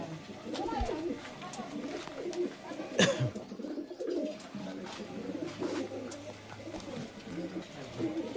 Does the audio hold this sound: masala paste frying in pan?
no